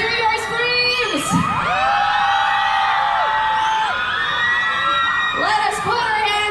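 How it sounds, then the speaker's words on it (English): A concert crowd in Manila screams and cheers for a performing artist, with loud high-pitched shrieks and whoops sustained throughout and rising in bursts near the start and end. "Once again, ladies and gentlemen, let's hear your screams!"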